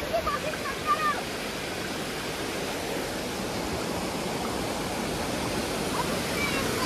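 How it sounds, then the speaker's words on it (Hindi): Lingmala waterfall at the Mahabaleshwar hill station, a loud continuous roar of rushing water that holds steady, with a few brief faint sounds near the start. "ये सारा पानी जाता है जिससे बनता है बड़ा वाला, राइट साइड वाला जो वाटरफॉल है बड़ा"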